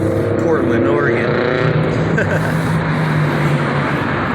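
Loud, deep rumbling exhaust of a modified $80,000 car in Portland, Oregon, droning steadily with a falling engine note, close by, with someone talking over it.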